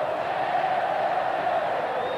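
Football stadium crowd at a 1994 Libertadores match between Cruzeiro and Boca Juniors, a distant, steady roar of cheering fans that stays even and sustained, with faint commentary talk over it.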